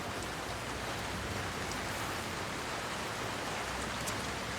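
Steady rainfall hisses evenly, a dense continuous patter at moderate distance with no voices and no break in intensity.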